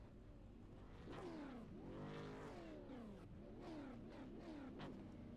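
A race car engine in the iRacing sim revs on pit road, rising and falling in repeated surges with whining sweeps, steady and moderately distant with no speech.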